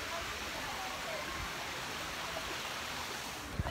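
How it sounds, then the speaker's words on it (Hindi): Waterfall in Sanjay Gandhi National Park, Borivali, Mumbai, giving a steady, dense broadband rush of falling water that fills the whole clip, with a brief knock near the end. "देखिए दोस्तों झरना, ये झरना है"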